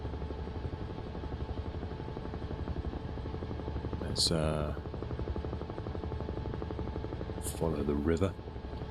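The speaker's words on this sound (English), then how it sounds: "We are in the Huey helicopter." A Huey helicopter in flight over the countryside near Thuin, Belgium, gives a steady, loud rotor and engine drone inside the cabin, with voices speaking briefly over it.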